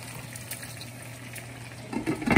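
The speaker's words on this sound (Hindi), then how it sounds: "अब हम इसमें थोड़ा सा पानी ऐड करेंगे" Water pours into a pot of chicken karahi with tomatoes, a soft watery hiss that swells into a louder splash and sizzle near the end.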